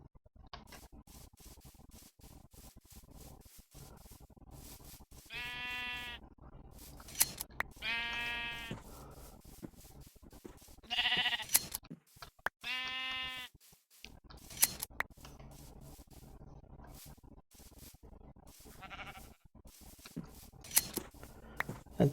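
Sheep in the Minecraft FTB Interactions modpack bleat four or five times, each call a short, clear, wavering cry spaced a few seconds apart over a quiet game background.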